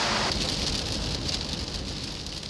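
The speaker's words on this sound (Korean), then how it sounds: "비는 하루 종일 내릴 기세다." Rain pours steadily on a wet day in Seoul, a dense, even hiss of drops on surfaces that carries through the whole stretch without any voices.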